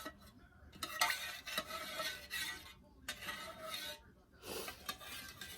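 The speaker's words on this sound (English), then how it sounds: "I don't want to bore you with stirring this." Wax being stirred in a container while it dissolves during candle making, a close scraping swirl repeated in several bursts with brief pauses between strokes.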